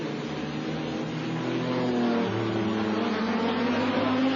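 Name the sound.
race car driving through the chicane at Zolder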